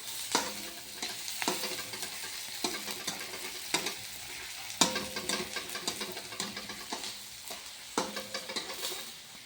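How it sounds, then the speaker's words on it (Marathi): Onions with salt sautéing in a pan for poha, with a bright sizzle and repeated scraping strokes of a spatula stirring in an uneven rhythm. No voices are present. "आता आपण मीठ कांद्याला त्याला परतून घेऊया."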